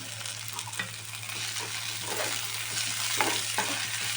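Curry leaves and cabbage crackle in hot oil in a pan for masala pasta, giving a steady close sizzle with a few soft spatula scrapes over a low electrical hum.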